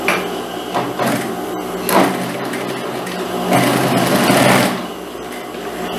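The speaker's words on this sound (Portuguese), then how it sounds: "Agora eu já posso trazer aqui para a máquina para passar a costura." A sewing machine stitches a sport collar onto a jacket in short close bursts of rapid running stitches broken by brief pauses, with no one talking.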